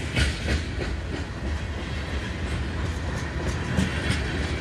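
Freight train cars carrying potash rolling past on rails, a steady close rumble with rhythmic clickety-clack of wheels over rail joints, no voices.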